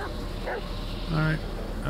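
In the Blair Witch game a dog gives a couple of short barks and a yip, moderately close, over a constant low background hum, with speech around them.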